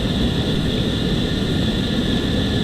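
F-14 jet engine idling in Flight Simulator X, a steady, loud broadband rumble with a constant hiss and no pauses.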